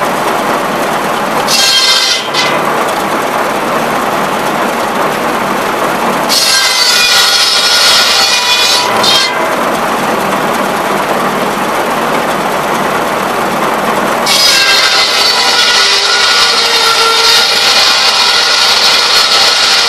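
A flat-belt-driven buzz saw, powered from a tractor PTO, runs with a steady loud whirring hum that swells with bursts of brighter high-pitched ringing and friction noise, with no talking.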